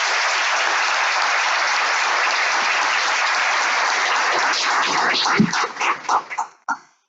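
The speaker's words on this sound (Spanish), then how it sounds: "Claudia Rucci, para la que le pido un fuerte aplauso a todos." Audience applause fills a conference hall at a university, a dense sustained clapping that thins into scattered final claps and trails off near the end.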